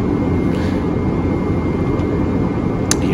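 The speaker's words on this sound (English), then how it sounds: "it's my very first landing of the new year, and I'm landing in Dublin" Private plane landing at Dublin airport, a steady, loud, continuous engine and airframe roar filling the whole stretch with no talk over it.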